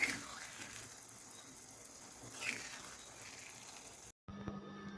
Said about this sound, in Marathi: अंडे आपण या साईडने एक मिनिट फ्राय करून आपण परत यांना पलटून घ्यायचं आहे म्हणजे दोन्ही साईडने मस्त फ्राय होतील